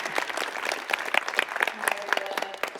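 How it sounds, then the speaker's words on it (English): Audience applause at a conference session, a dense, crackling patter of many hands clapping steadily for nearly three seconds with sharper individual claps standing out near the end. "Let's give Laurel a round of applause."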